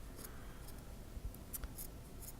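Scissors snipping through a sock to make a snowman craft, a few short crisp cuts close by, with faint rustling of fabric between them.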